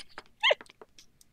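A pet dog barks in The Sims 4 life-simulation game, one short yelping bark standing out amid soft scattered game effects and chirps, fairly close and clear.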